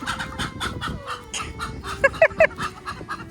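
A hen being herded toward her coop gives a quick run of short, sharp clucks near the microphone, amid rustling and handling noise.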